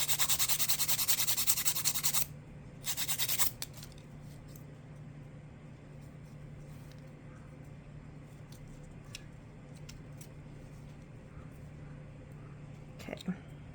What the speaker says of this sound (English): I will go ahead and do just a little bit of filing just to get my shape back.